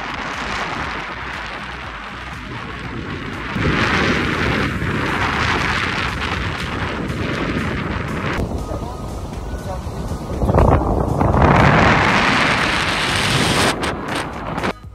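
Wind gusting across the hilltop at Bukit Singa on Pulau Kapas, a steady broadband rush buffeting the microphone, swelling stronger in the second half, with voices talking beneath it.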